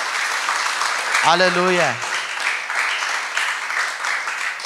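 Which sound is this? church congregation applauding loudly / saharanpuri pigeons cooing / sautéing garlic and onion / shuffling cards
church congregation applauding loudly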